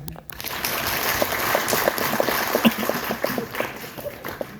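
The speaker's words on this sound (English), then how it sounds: "Okay, let's give him a clap." A group claps after a basic first aid and CPR training demonstration in Doha, Qatar, giving a short, moderate round of applause mixed with room noise and faint voices.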